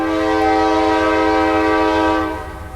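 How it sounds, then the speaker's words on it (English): A passing train's horn blares in a long, loud, steady chord close by, with rumbling rail noise beneath, fading slightly at the end. "And we got a fucking train."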